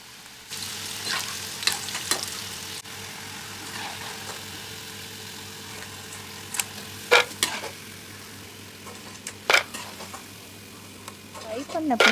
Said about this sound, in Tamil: அதை வந்து குட்டி குட்டியாக கட் பண்ணி ஆயிலில் ஃப்ரை பண்ணி எடுக்க போகிறோம்